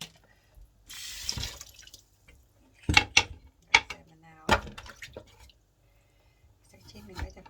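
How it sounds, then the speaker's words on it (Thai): Limes being washed under running water, short bursts of splashing tap water and dripping with quiet gaps between, close by, with a voice speaking briefly at times. "เราจะใส่มะนาวอีกจักหน่อยล้างมะนาวก่อน"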